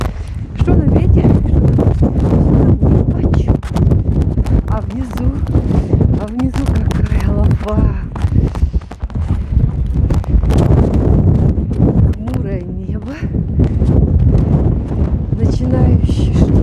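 Strong squally wind in a storm over the sea at Dvuyakornaya Bay, with rain and snow, buffets the microphone in loud gusts while a person talks throughout.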